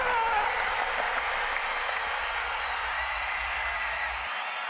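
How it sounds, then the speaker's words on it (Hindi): Spectators applauding at a wrestling bout, a continuous wash of crowd clapping heard from a distance, steady and even before easing slightly at the end. "अरे तालियां!"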